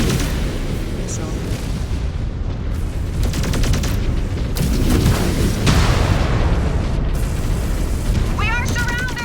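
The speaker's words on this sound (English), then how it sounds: "Missile." Missile explosions and heavy battle noise in MechWarrior 5 during a clans mission, a loud continuous roar of booms and blasts with a voice shouting over it.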